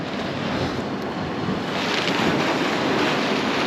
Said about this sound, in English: And there goes the waves again.